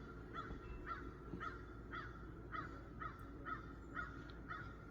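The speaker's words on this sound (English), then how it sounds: "Oh, there's the crows again." A crow caws repeatedly in an even rhythm, about eight harsh calls spaced roughly half a second apart, moderately distant over quiet background noise.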